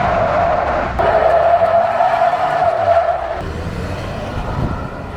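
A Ford F-150 Tremor pickup with an EcoBoost engine launches hard, its tires squealing loudly for a few seconds before the screech cuts off and engine roar carries on; no speech.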